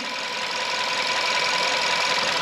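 A car engine with a misfire idles close by with a rough, uneven running note, shaking and stumbling continuously throughout, vibrating the body.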